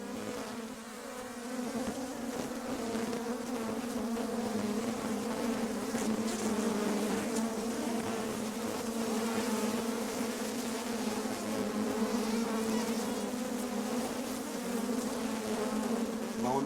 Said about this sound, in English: I imagine these bees are just hitting it.